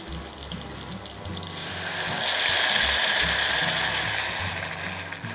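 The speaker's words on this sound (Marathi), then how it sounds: "आपण आता त्याच्यात थोडंसं पाणी घालूया." Water poured into a pan of raw mango pieces fried in ghee, giving a rushing, gurgling pour that rises to a loud hiss midway and then eases, with low rumbling underneath and no talk.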